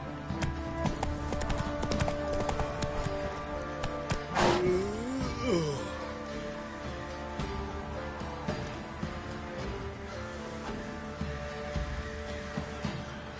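Horse hooves clip-clop steadily in The Witcher 3, a continuous rhythmic trot at moderate distance beneath game music, with a brief louder burst and sweeping tones partway through.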